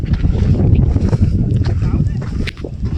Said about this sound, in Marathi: वारा खूप चालू आहे इकडे बघू शकता.